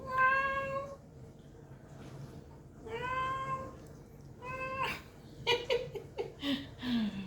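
A cat meows three times in drawn-out cries, then laughter and breathing follow close by.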